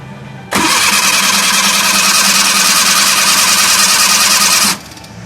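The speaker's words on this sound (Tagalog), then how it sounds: "So i-crank natin." A Suzuki Multicab F6A engine with hard starting and a fuel supply fault, cranking loudly up close and then firing into a continuous raspy run for about four seconds before cutting off.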